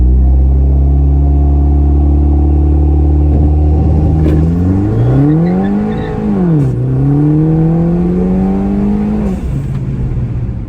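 Tuned Mini Cooper R56 launching from a standstill, its engine loud and close, droning at high revs, then sweeping up and dipping as it pulls away, surging again before easing off near the end.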